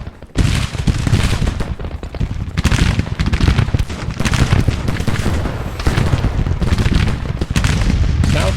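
Howitzer artillery in Grand Tactician: Civil War fires repeatedly, making dense, loud booms layered with rolling musketry that continue almost without pause for several seconds.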